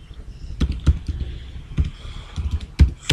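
Typing on a computer keyboard, a close series of irregular key clicks and thumps over about three seconds, with no talking.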